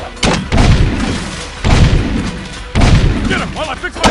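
Gunfire from Jak II comes as three loud, heavy blasts about a second apart, each with a booming low thump and a decaying tail, with character voices calling out between them.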